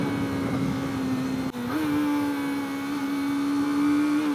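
A Kawasaki ZX-25R motorcycle engine holds a steady high-pitched rev above 10,000 rpm, with a brief dip as the quickshifter changes gear, then climbs and holds again, loud and close.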